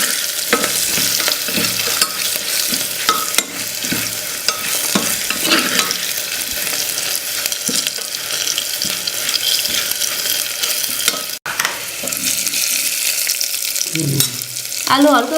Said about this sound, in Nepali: भटमासलाई एकछिन हल्का ब्राउन हुँदैसम्म भुट्नुपर्छ।